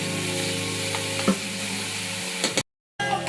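Garlic sizzles steadily in a pan over medium heat, a continuous frying hiss with a brief stir partway through and a short dropout near the end.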